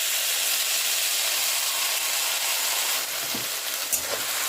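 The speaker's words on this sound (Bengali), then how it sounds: "এবার মধ্যে দিয়ে দিচ্ছি বেটে রাখা মশলাটা" Ground spice paste for a raw papaya and potato curry sizzles in hot oil. A loud, dense, steady hiss runs throughout, with a couple of faint clinks near the end.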